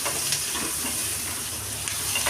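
Chopped onions frying in a pan while making a South Indian tomato, onion and garlic chutney, a steady close sizzle and hiss with faint stirring scrapes throughout.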